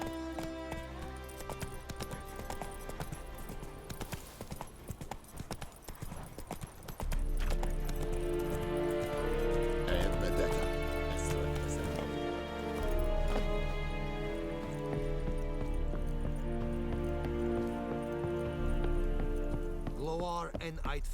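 Horse hooves clip-clop at a steady trot while riding in The Witcher 3, close and rhythmic, picking up pace partway through under game music, with voices talking over it.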